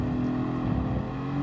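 A Ferrari engine in Gran Turismo Sport gives a rough, steady drone with a strong low hum, holding at constant revs for a brief moment with no speech over it.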